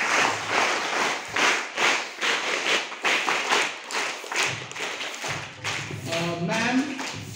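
Three rounds of rhythmic group clapping welcome a teacher in a school setting, sharp regular claps in short bursts, fairly close, with a voice briefly speaking near the end.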